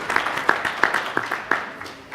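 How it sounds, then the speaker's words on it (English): Scattered hand claps from a small audience at a health leadership summit panel, uneven and fairly close, with a murmur of voices beneath. "A round of applause for our community engagement group."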